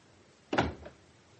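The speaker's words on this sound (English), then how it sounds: "Shut the door." An office door is shut with a single firm thud and a brief rattling after-knock, close by in a quiet room.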